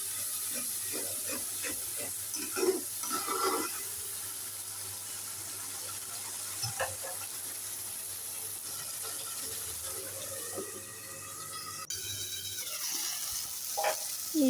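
Spices with tomato, turmeric and chili powder sizzle steadily in a pan, a continuous hiss broken by soft scrapes and clinks as the mixture is stirred.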